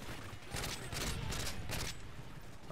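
A burst of rapid gunfire during a firefight in Modern Warfare 3, several quick rattling volleys heard from some distance over steady background noise, with no clear voices.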